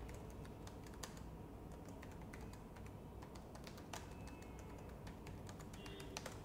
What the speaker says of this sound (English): Now, I'll type something.